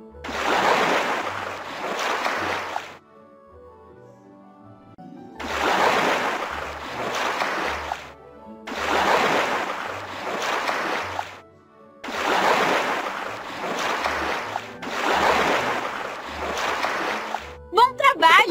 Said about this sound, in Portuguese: Agora vamos enxaguar a espuma com água.